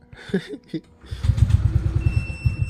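A Honda PCX 160 scooter, its engine already warmed up, cranks briefly and catches, settling into a steady close idle with a rhythmic pulse after a few short sputters.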